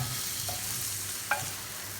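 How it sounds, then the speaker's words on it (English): Chicken pieces being stirred in curry in a hot pan, a gentle sizzle running throughout with a couple of short scraping knocks from the spoon, close by with no talking. "we're going to just stir it so that we can coat it well"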